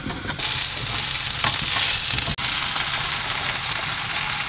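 Food fries in a very flat saucepan inside a parked camper van, a steady loud sizzle with faint scraping and stirring throughout and one brief dropout.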